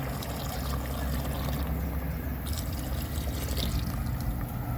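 Water poured into a pot of barley and lentils cooking over a fire, a continuous, fairly loud rushing pour with splashy texture that stays steady throughout, with no talk.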